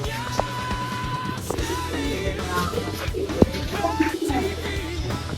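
A champion racing pigeon coos in low, soft repeated rolls, fairly close, with other faint chirps and background noise around it.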